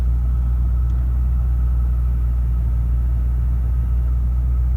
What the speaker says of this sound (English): the engine is idling absolutely spot on